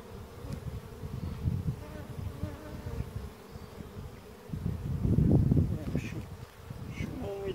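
Honey bees buzz steadily around an open hive during hive maintenance, a dense close drone that swells and fades, with people talking intermittently nearby.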